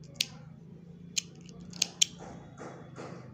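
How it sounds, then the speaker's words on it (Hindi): Scissors cut woollen knitting yarn while ladies' thumb socks are being knitted, giving a few sharp, close snips spaced irregularly over a quiet background. "अब यहाँ पे धागे को काट लेंगे थोड़ा सा लंबा काटेंगे इसे हम"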